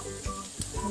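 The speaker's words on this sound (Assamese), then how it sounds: "পিঁয়াজটো মই অকণমান ৰঙচুৱাকৈ ভাজোঁ" Onion fries in a pan for a pumpkin dish, a close, brief crackling sizzle with a couple of soft stirring bumps.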